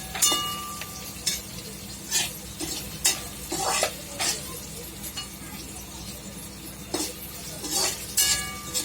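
Hadjod stems roasting in a pan with salt, a continuous dry sizzle under regular scraping stirs and occasional light clinks of a utensil against the pan, close and clear, with no voices.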